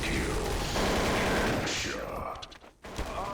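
Rapid gunfire in Counter-Strike: Source, blind automatic fire in a competitive match, a dense close fusillade of shots that stops abruptly, leaving a few scattered mechanical clicks.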